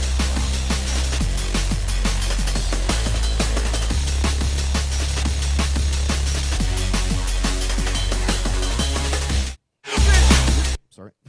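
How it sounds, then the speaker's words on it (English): Dense breakbeat drum loop with continuous kick, snare and hat hits, the break pattern changing from bar to bar over a steady main beat, loud and close, then a brief cut to silence and a short final burst. "you can do different breaks in different bars just to kind of keep it always switching"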